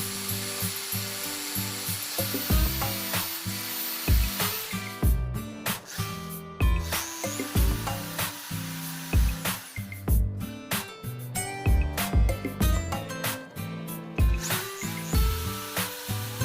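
A drill bores a hole into the tail end of a small wooden fishing lure carved from scrap wood, giving close, loud, repeated whirring bursts with short pauses between them.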